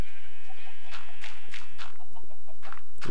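Sheep bleating in the video game Minecraft, several short bleats repeating through the clip over a steady high-pitched background tone, fairly loud and with no talking.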